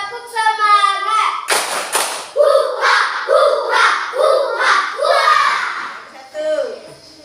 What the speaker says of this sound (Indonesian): Tepuk semangat. Ulang lagi 2 kali.